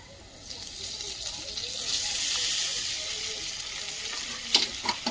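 Sago pearls go into a pan of frying ingredients for sabu pulao and sizzle with a rising hiss. The sizzling swells and then eases, and a few sharp clinks of stirring follow near the end.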